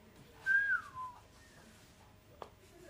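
A person whistles once: a short, faint sliding note that falls in pitch, followed by quiet background noise and a soft click.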